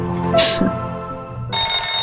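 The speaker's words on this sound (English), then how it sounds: "This phone doesn't ring often." A telephone rings in a video game, a bright electronic trill sounding in two short bursts separated by a pause, over a soft background tone.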